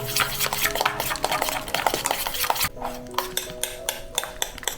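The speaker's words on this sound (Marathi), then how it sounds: "अंडा आहे ना दोन मिनटं नॉनस्टॉप एकदम फास्टमध्ये फेटून घ्यायचे" Rapid metallic clinking and scraping of a utensil beating eggs in a bowl, fast and continuous, then more spaced-out strokes near the end.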